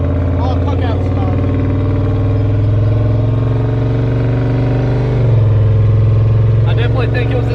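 Turbocharged Ford Ranger truck engine revving and pulling through the gears, a steady loud mid-pitched drone that shifts and rises near the end, with people talking over it throughout.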